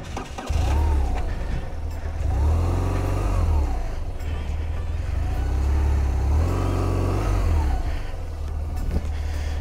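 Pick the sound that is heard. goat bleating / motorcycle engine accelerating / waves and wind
motorcycle engine accelerating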